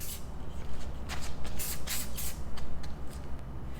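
Short hissing bursts of anti-spatter aerosol spray onto welds, several quick sprays in a loose rhythm against a faint background hum.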